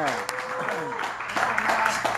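Church congregation clapping during a sermon, a scattered sustained patter of hands mixed with cheering voices and tonal sounds, moderately loud throughout.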